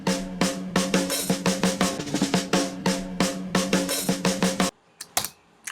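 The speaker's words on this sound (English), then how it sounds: "And this is just a drum loop." A drum loop used as a fill in a hip hop beat made in Ableton Live, with punchy, rapid hits over a steady low tone, playing loud and dry before cutting off into near silence with a few final stray hits.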